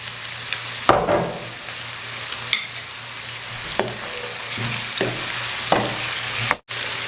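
Vegetables and soy sauce for fried rice sizzle loudly in a frying pan, with steady frying noise and several sharp scrapes and knocks of a utensil tossing the food.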